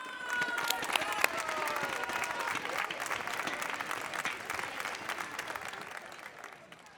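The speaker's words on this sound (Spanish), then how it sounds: "Forte aplauso para Ana." Audience applause for a singer at a live song performance, steady dense clapping with some cheering that stays loud throughout and fades slightly at the end.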